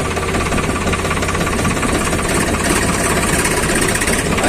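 A tractor engine idles in a field, a loud, close, continuous diesel chug with steady knocking and no pauses or voices.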